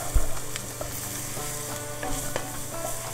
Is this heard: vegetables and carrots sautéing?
yes